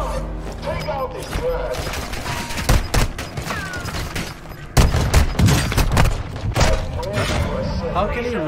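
Call of Duty: Warzone gunfire crackles as a string of sharp shots and thuds, with a heavier burst midway. Someone talks excitedly over the shooting throughout.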